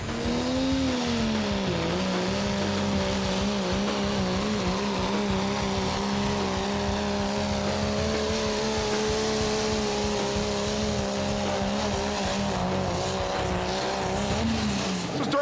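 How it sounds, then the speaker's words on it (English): A truck or tractor pulling competition vehicle, part of a Ford, Chevy and Dodge battle, runs its engine loud and steady at a nearly constant RPM for the whole pass, with only a slight dip early and a drop at the end. "I never heard this thing change RPM by more than about 100"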